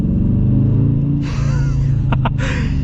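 A 2023 Dodge Challenger R/T with a manual gearbox rumbles loud and close, a deep, throbbing engine note with a couple of brief breathy bursts on top.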